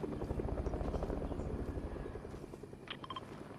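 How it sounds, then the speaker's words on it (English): A helicopter in the Fortnite video game thrums with a steady rotor pulse, close and moderately loud, ending with a few brief electronic game chimes. "I told you I was gonna get the helicopter."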